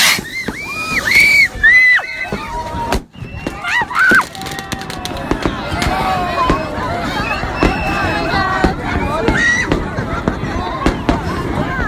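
Fireworks at an outdoor gathering go off nearby in a rapid, irregular string of sharp pops and crackling bursts, with whistling rises early on and people talking and calling out throughout.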